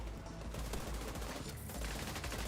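Weapon fire in The Division 2, a dense, loud burst of rapid gunshots blurring into a continuous roar of shooting for a couple of seconds, with no talking.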